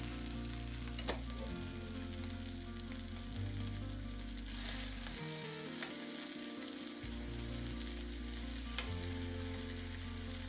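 King fish frying in hot oil for a Chettinad fish fry, a steady close sizzle and crackle that runs continuously with faint stirring, no talk.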